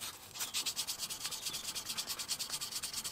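Hand sanding of steel with abrasive grit: quick rhythmic back-and-forth rubbing strokes, close and steady, about six or seven per second, with no talking.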